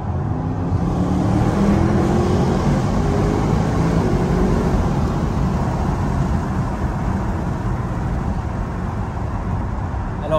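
An Audi RS6 engine drones steadily inside a tunnel at night with a window down, a loud continuous low rumble that resonates and holds steady throughout with no voices.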